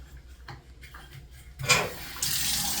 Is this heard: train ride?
no